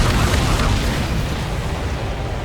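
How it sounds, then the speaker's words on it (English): A deep, rumbling explosion from the aerial combat game Ace Combat 7: Skies Unknown, sustained and loud with heavy low-end boom filling the whole stretch, no voices. "What was that explosion?"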